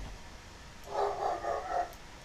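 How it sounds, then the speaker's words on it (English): Neighbouring dogs barking a few times in a short burst, heard at a moderate distance and fairly muffled, with a steady background hiss and no talking. "Next door's dogs are starting."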